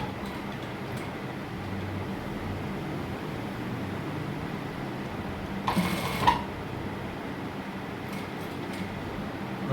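A sewing machine stitches a cuff placket with a steady, continuous mechanical whir throughout, and a brief louder rattle falls partway through.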